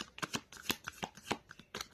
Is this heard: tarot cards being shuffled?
yes